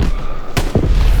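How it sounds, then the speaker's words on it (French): A grenade explosion in a war video game set on a hill assault, heard as one sharp broadband blast followed by a lower thud, loud against steady background game noise. "Ah, le signal, ça va être des grenades, ok? Grenade à envoyer."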